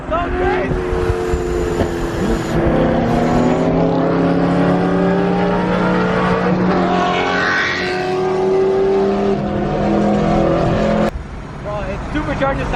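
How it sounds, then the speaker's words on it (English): A supercharged supercar revving hard at a car meet, loud rising engine wail with supercharger whine climbing over several seconds before cutting off abruptly, close by, with people talking around it. "This supercar sounds so crazy."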